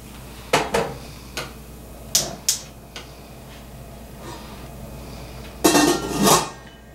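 A pot of mussel and clam beer broth set onto a stove, with several close metallic clinks and taps followed by a louder scraping clatter of the pot settling near the end.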